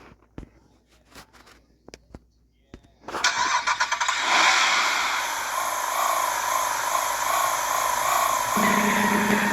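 A Toyota Supra in a drag racing video game: a few sharp clicks, then the engine starts and settles into a loud steady rev with a shift in pitch near the end.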